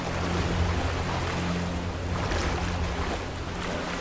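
Water rushes and splashes steadily in the video game Tomb Raider Definitive Edition, a continuous loud surf-like wash with a low rumble beneath and no talking.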